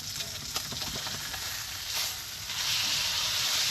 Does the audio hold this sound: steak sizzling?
yes